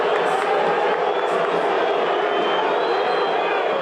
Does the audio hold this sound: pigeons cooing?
no